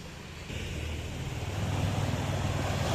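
Sea waves surging and breaking on a beach where fishermen pull in nets, a steady broadband wash that swells louder after the first second and a half, with wind rumble underneath and no voices.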